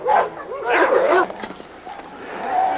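A six-month-old male dog named Pecos barks and yelps in a yard, giving several sharp calls in quick bursts that fade toward the end.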